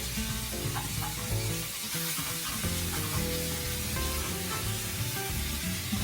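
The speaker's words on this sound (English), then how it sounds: "I'm gonna add my garlic." Garlic sizzles loudly in a hot pan while Mexican rice is cooked, giving a dense, continuous frying crackle with occasional stirring clatter, close up and with no voices.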